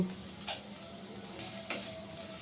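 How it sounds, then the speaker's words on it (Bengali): Vegetables sizzle in a little oil in a wok, a soft steady fry punctuated by a couple of sharp stirring clinks. "এখন এই সবজিগুলো দিয়ে দিব।"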